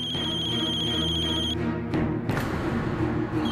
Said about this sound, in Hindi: देख लो आ गया फोन।